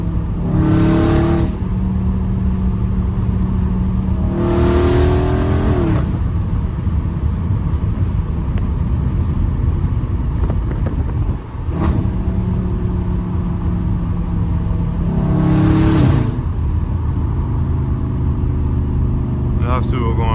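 A Dodge Charger Scat Pack heard from inside the cabin, its engine roaring steadily throughout with three short bursts of harder revving spaced across the run, loud and close with a constant low rumble underneath.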